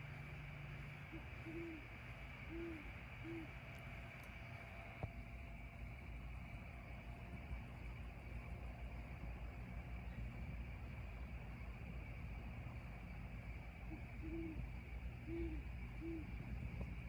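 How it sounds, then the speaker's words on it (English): An owl hoots from the top of a tree outdoors, two short series of soft, low hoots about twelve seconds apart, faint and distant over a constant broadband rumble like traffic or wind. "The owl at the top of the tree."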